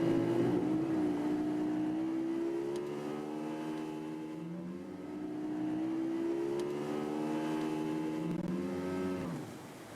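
A car engine revs as the throttle is hit from a full right turn, the steady engine drone rising and falling in pitch in long sweeps, fairly loud and continuous with no talk.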